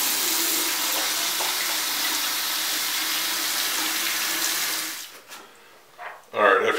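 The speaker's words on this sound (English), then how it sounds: "Get you some water running and just rinse out the tank." Water runs steadily from a tap as a Kanger ProTank vape tank is rinsed under it, a close, continuous hiss that cuts off near the end and gives way to a few brief clanks and handling noises.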